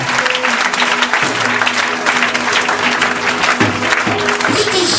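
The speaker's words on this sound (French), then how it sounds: "Acclame le Seigneur Jésus" A church congregation applauds in a steady, loud wash of clapping that runs throughout, with music and a faint voice underneath.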